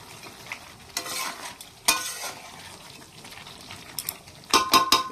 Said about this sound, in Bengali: আস্তে আস্তে নেড়ে চেড়ে এটাকে সুন্দরভাবে সমস্ত মশলার সঙ্গে মিশিয়ে দিচ্ছি।